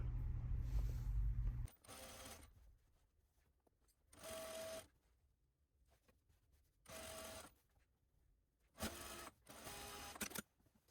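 An overlocker stitches a garment seam in four separate bursts, each running about a second with short pauses between, close and steady with a whirring motor and rhythmic needle clatter.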